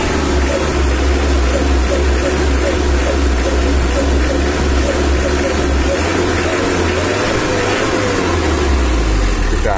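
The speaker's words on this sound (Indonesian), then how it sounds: "Ini udah halus mesinnya." Diesel engine idling smoothly after an idle RPM adjustment, a loud, steady low rumble with an even rhythm that shifts slightly in pitch partway through, with no talk over it.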